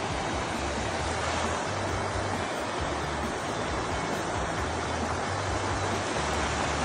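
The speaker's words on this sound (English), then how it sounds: "This one likes the sound of water." Water rushing outdoors near San Jose, a loud, continuous broadband roar like a stream or cascade, steady throughout with no speech.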